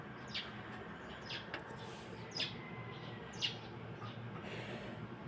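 A few short bird chirps ring out at a distance over a steady low background hum, spaced irregularly a second or so apart.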